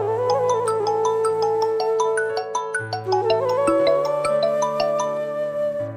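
A phone's melodic electronic ringtone plays a bright, repeating tune of clear tones, fairly loud and with no talking.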